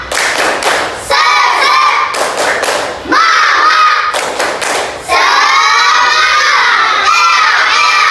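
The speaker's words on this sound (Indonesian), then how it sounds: "Dalam hitungan 1 sampai 3 kita tepuk semangat bersama-sama ya." Schoolchildren in a classroom performing a rhythmic spirit clap, with loud bursts of hand claps and thumps alternating with enthusiastic group shouting and cheering, close and energetic throughout.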